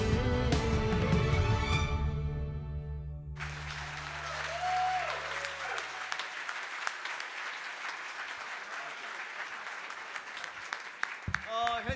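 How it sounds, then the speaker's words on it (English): Audience applause at an awards event, a burst of clapping that rises over the tail of music, then continues as a steady indoor clatter of hands with some faint voices underneath. "let's give him another round of applause"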